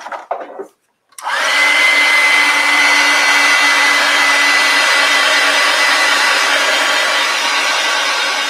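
A hair dryer switches on after a brief pause and blows a loud, steady rushing whir with a faint whine to dry an acrylic painting, continuing unchanged to the end.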